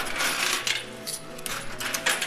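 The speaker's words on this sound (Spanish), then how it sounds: "Se activó la máquina y nos dio bastantes monedas" Coins spill out of a money machine in a bright, continuous metallic jangle, several surges of clinking coins that stay loud and close throughout, with no voices.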